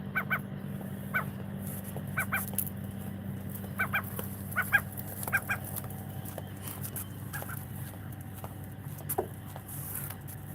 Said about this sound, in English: Noisy bird, ain't he?